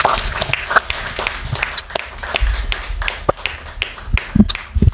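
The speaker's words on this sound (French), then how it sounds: "Et je vais vous demander de l'applaudir encore une fois." An audience at a book sale and culture event at the Haitian consulate applauds a philosopher and professor speaker, giving fairly close, uneven clapping with scattered taps that swell and fade over several seconds.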